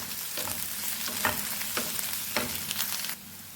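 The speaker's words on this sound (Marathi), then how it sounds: "सोबतच यामध्ये घालत आहोत आपण आता हिरवी मिरची, ती सुद्धा व्यवस्थित आपल्याला परतून घ्यायची आहे" Green chillies sautéing in a pan for an Indian bread pakoda filling, a steady close sizzle with a few louder stirring scrapes, fading out near the end.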